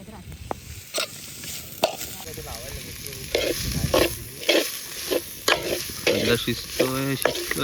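Chicken biryani cooking in a pot over a gas flame outdoors at a beach, with rhythmic clanking stirs against the pot over a bubbling sizzle and a brief voice toward the end.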